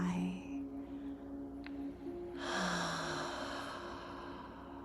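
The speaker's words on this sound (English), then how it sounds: "gently exhaling through the mouth like a slow and gentle sigh" A slow, gentle exhale through the mouth like a soft sigh, a long airy breath rising midway and fading, heard close over a steady low musical drone during a calm guided breathing exercise.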